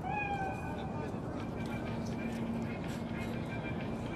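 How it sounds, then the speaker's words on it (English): A cat meows in a video game, with two short harmonic cries early on, set against a dense, steady game ambience and a low hum. "Chill. It's just a cat."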